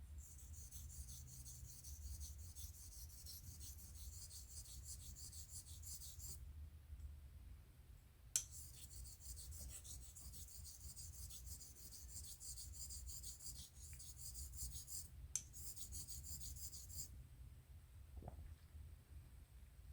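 A Thiers Issard Evide Sonnant Extra straight razor is honed on a Belgian Coticule stone in long, steady rasping strokes with brief pauses, close and even, no talking.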